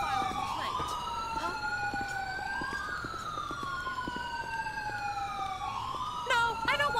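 An emergency vehicle siren wails in rising and falling sweeps from a distance near a beach, holding steady and moderately faint for several seconds with soft background ambience.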